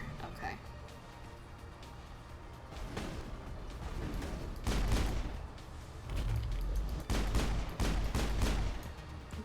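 Gunfire and heavy blasts from a sci-fi firefight against Geth in a Mass Effect-style shooter, dense bursts building to loud booms in the second half, with someone talking over the shooting.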